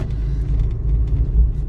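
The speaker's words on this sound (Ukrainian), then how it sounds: "зараз я їду на третій передачі зі швидкістю 40 км на годину" Interior of a car with a manual gearbox cruising in third gear at about 40 km/h, a steady loud low engine and road rumble with no talking.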